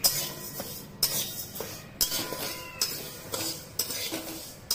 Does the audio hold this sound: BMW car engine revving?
no